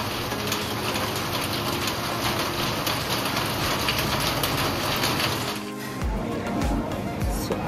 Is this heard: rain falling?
yes